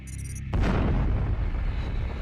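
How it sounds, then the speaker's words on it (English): A short tone cuts off into a sudden deep boom that rumbles on loudly, a sustained low roar filling the rest of the moment. "satellites picked up the greatest cosmic explosion ever recorded"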